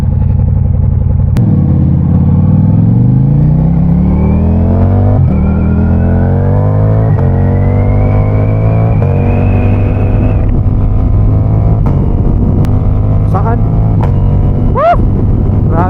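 A Ducati Diavel V4S motorcycle on Camiguin Island revs hard and climbs through several gears, each upshift dropping the pitch before it rises again. The engine is loud and close, with a rider's excited voice breaking in over it.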